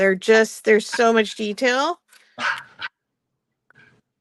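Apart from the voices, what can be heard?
dog whining to be let out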